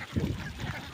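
Khaki Campbell ducks in a flock give a continuous, busy chorus of nasal calls, close and fairly loud, with overlapping squawks rather than single clear quacks.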